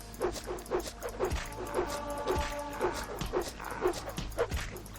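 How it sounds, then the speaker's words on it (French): Nix-hounds in the game Morrowind yip and bark in quick repeated bursts, fairly steady rhythm over a low background, moderately loud with no talk. "Oh, il y a des chiens de Nyx."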